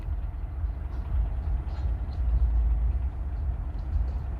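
A diesel locomotive-hauled train rumbles across a bridge in St. Augustine, Florida, a steady heavy low drone with faint squeals on top and no talking.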